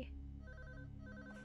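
A quiet telephone rings in the horror video game Unspoken, a faint repeating electronic trill over a low droning ambience, ending with a brief louder thump.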